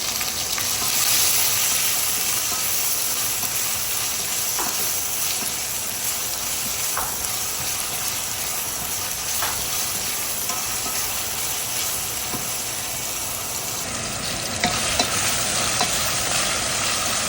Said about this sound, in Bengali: আর পেঁয়াজ রসুন ভাজা হয়ে গেছে।